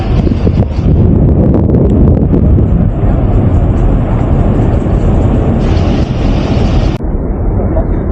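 Strong wind buffeting the microphone at a dam, a loud continuous roaring rush that stays steady for several seconds before easing slightly near the end.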